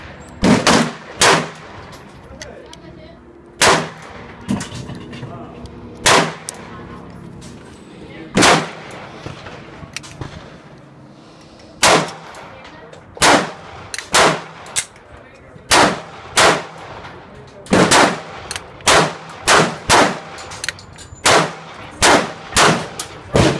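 A .22 Magnum pocket pistol fires outdoors at a range, sharp loud cracks in irregular single shots and quick clusters, with quiet talking in between.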